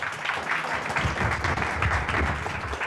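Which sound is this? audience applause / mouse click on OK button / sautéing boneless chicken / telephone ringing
audience applause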